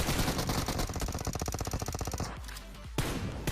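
Rapid automatic gunfire in the PUBG Mobile shooter game: a loud, evenly spaced burst of shots that stops abruptly, followed by a short lull and then a single louder crack near the end.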